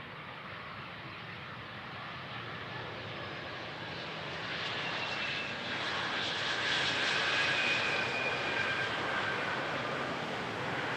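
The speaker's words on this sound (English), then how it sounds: "Inbound from Munich for a short final." An airliner inbound from Munich on short final approach to Amsterdam Schiphol runway 18R roars in a broad steady rush that swells louder over several seconds as it nears, heard alone.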